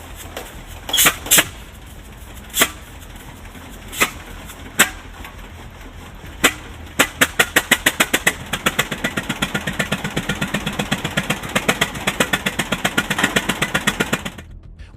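A vintage International Harvester Titan 1020 tractor engine coughs with a few slow, loud pops, then catches and settles into a fast, steady chugging idle that runs to the end.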